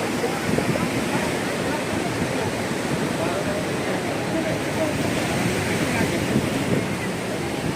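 Sea waves at a beach near Dwarka, a constant close roar of surf and spray with wind buffeting the microphone; a voice is faintly present.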